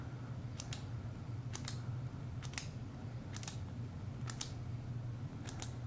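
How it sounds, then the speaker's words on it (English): Scissors snip slits in vinyl for Cricut Christmas ornaments, giving six crisp paired cuts at a steady pace over a low hum, with no talking. "we're gonna grab our scissors and we're just going to cut a few slits"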